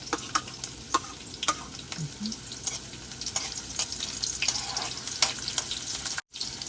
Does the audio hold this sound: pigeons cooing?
no